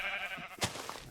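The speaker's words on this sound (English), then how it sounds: "I hear you there, sheep." A sheep in the Minecraft video game bleats once sharply mid-way, after a steady game tone, clear and close with no voices.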